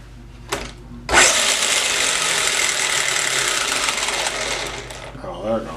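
A Subotech BG1508 RC truck's electric motor whirs steadily for about four seconds after a brief click, loud and close, then cuts off.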